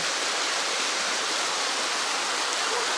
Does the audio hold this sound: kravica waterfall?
yes